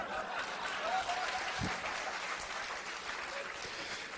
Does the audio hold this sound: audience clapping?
yes